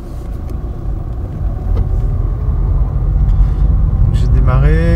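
A car with a manual gearbox pulling away again in first gear during a driving lesson, engine rumble building steadily up close, then a rising rev near the end.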